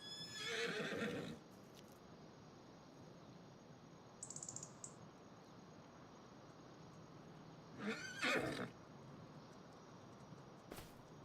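Horses in the video game Farming Simulator 25 neigh and whinny in two loud bursts, one at the start and one toward the end, separated by a quiet stretch with a brief high chime and faint background ambience.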